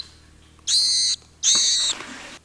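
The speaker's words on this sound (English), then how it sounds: "My kids are raising a baby bird that they rescued from our front yard." Rescued baby sparrow giving two loud, high, drawn-out chirps in quick succession, close up, with a third chirp starting at the end.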